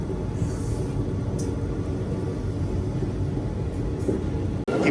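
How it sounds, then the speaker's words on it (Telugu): An express train from Chengalpattu to Kacheguda slows after passing Arakkonam Junction, with a steady loud rumble of wheels and carriage noise heard from inside, plus a brief faint squeal and a sharp clunk near the end. "మళ్ళీ బండి అయితే స్లో అయిపోయింది"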